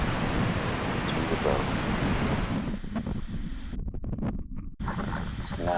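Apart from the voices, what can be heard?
rough open ocean water with wind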